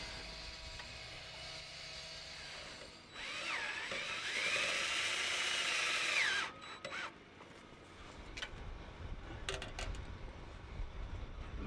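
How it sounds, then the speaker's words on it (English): A power drill cuts a hole in a downspout, whirring loudly and steadily for about three seconds with a rising whine, then stops. Lighter handling knocks and rustles follow in a quiet setting. "we're cutting a hole here now to fasten the downspout onto the E-straff"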